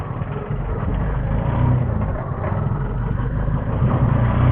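Auto rickshaw riding over the Modi Mir flyover, its small engine droning steadily with a low rumble and road noise, fairly loud and continuous throughout.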